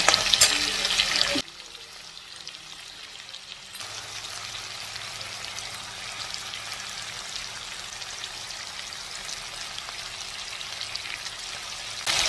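Potato and onion frying with turmeric give off a steady, soft sizzle with faint stirring scrapes. A louder burst opens the sound, then the frying settles into a quieter, even crackle that runs throughout.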